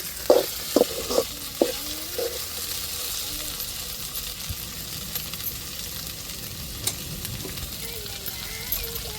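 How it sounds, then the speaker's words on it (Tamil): A few sharp clinks of a utensil in a pan, then a steady soft sizzle of okra frying, with faint talk in the background. "சேர்த்து நல்லா வதக்கி விடணும்"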